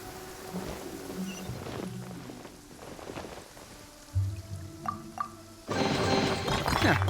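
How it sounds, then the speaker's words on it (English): Rainfall in the Genshin Impact video game world, a steady wash of falling drops with scattered clinking and splashing accents, joined midway and toward the end by louder game tones and effects layered over it. "When stuck on a deserted island, rain is a precious source of drinking water."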